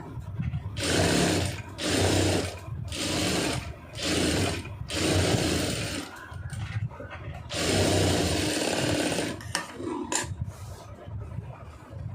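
A sewing machine stitches a lining blouse in several bursts of rapid mechanical whirring, each run a second or two long, separated by short pauses, close and moderately loud with no voices.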